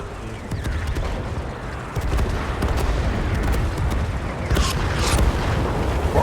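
The Sturer Emil, a German tank destroyer in World of Tanks, fires its heavy gun amid a dense, continuous roar of battle noise, with a few sharp cracks and booming blasts layered over the din.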